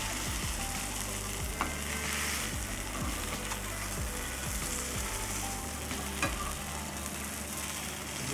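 Barramundi fillet frying skin-side down in a pan, a steady loud sizzle and crackle running throughout with low rumbling pan noise underneath and no talking.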